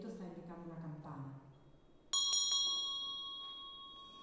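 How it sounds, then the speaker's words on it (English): A bell is struck during a live teaching session in Florence, ringing out with a sharp onset, a couple of quick repeated hits and a long, bright, slowly fading tone, after a voice talks. "The bell rings."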